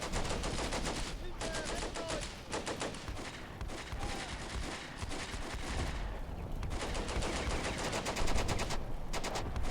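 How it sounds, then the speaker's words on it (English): Machine gun fire in the Combat Mission World War II strategy game, with long stretches of rapid, rattling automatic bursts and brief pauses, loud and sustained throughout. "Check out that machine gun."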